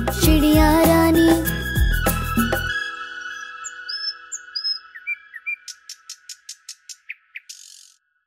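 A small bird's chirping in a Hindi children's rhyme song follows a loud musical passage, with a steady run of short, evenly spaced chirps and whistles standing alone and gradually fading.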